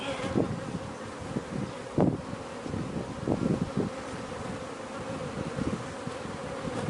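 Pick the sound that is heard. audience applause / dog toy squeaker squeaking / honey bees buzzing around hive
honey bees buzzing around hive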